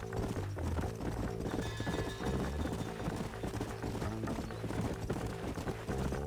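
Horse hooves clip-clop in the Red Dead Redemption western video game, a loud, continuous rhythmic trot that fills the whole stretch.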